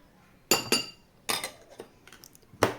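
Egg being beaten with a utensil in a bowl as baking powder goes in, giving several sharp clinking taps against the dish in short separated bursts, close and fairly quiet, with no voices.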